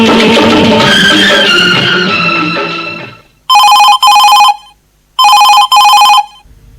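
Telephone ringing on a radio phone-in Hindi film song request show: two double bursts of electronic ringing after a song fades out, loud and close with short gaps between rings.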